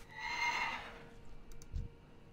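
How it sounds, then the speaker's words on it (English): A horse mount in the World of Warcraft video game whinnies once, a bright, fairly close neigh that fades, followed by a faint hoof or thump sound near the end. "And ride a horse just in case."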